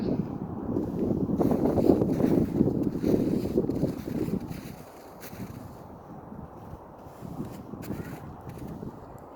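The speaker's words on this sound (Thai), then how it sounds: "ลมแรง" Strong wind roars in buffeting gusts during snowfall in Iceland, loud and rumbling against the microphone at first, then easing to a softer, steady rush in the second half.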